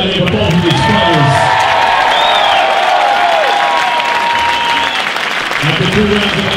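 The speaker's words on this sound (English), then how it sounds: "Let's get a nice round of applause out of here for both of these fighters." A large crowd at a boxing match applauding steadily and loudly, with cheers and whoops rising through the sustained clapping.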